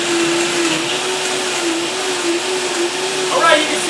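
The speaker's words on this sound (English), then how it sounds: "you can see the Vitamix is already blending up and the Nutribullet's blending up now." Vitamix and NutriBullet blenders running side by side, a loud steady motor whine with a whirring drone that holds throughout, close up, with a brief rise near the end and no talk.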